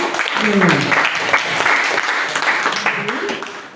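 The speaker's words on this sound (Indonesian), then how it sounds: "tepuk tangan untuk kelompok" Students in a classroom clapping for a group, a moderate, uneven patter of hands lasting a few seconds, with voices mixed in underneath.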